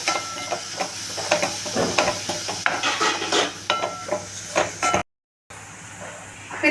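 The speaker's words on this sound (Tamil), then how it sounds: "இப்போ இதையும் நல்லா கொஞ்சம் வதக்கிக்கலாம்" Grated carrot sizzles in ghee in a pan while a spoon stirs and scrapes it, a steady close hiss with irregular clinks, then a brief cut of silence.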